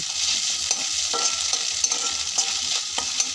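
Potatoes frying in a pan for a pasta dish, a steady close sizzle with occasional stirring scrapes and clinks, no voices.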